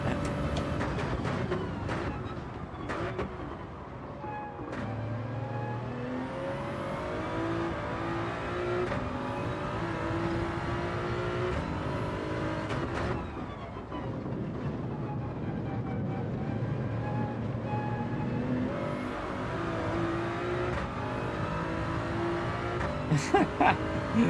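A powerful car screams down the straights in Gran Turismo 7, its engine holding high revs with climbing gear pulls and brief dips at shifts, loud and continuous over steady road noise.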